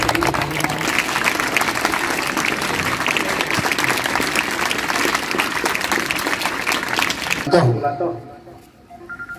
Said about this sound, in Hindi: आप लोग थोड़ा तालियां बजाइए